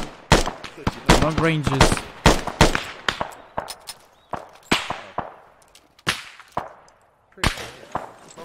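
Vehicle-mounted guns firing in the Arma 3 military game: loud, sharp metallic cracks in irregular bursts and single shots, some rapid strings, ringing briefly, with a short spoken remark in between.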